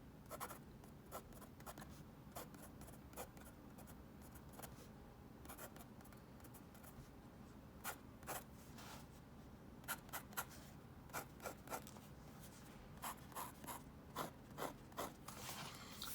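A Pilot Kakuno fountain pen moving across paper, its nib giving off faint, close, scratchy strokes in irregular bursts that grow a little busier and more distinct toward the end.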